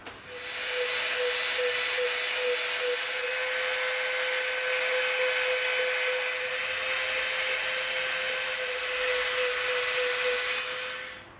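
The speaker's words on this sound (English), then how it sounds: "Now we're going to round the edges off with our Dremel." A high-speed Dremel rotary tool rounding EVA foam edges whines continuously with a steady pitch, grinding without pause and no voices.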